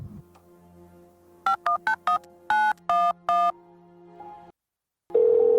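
A phone keypad beeps through a string of quick tones, short presses then longer ones, followed by a brief silence and a ringing tone.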